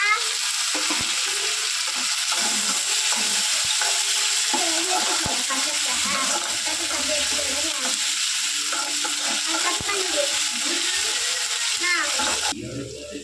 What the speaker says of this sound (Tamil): வெங்காயம் தக்காளி பிரிஞ்சு எண்ணெய்லாம் வருது. நல்லா வதங்கிடுச்சு.